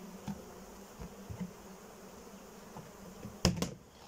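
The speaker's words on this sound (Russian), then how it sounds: "Это пчелка." Honey bees at a hive in spring hum softly and steadily, with faint close wingbeats and a couple of brief louder clicks near the end, and no voices.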